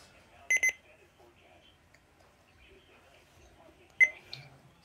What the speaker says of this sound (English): this was an alarm testing on the Oregon Scientific WR601N